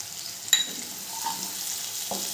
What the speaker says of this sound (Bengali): পেঁয়াজটা হালকা ভাজা ভাজা হয়ে গেছে। এরপরে দিয়ে দেবো 1/2 চামচের মতো জিরে গুঁড়ো।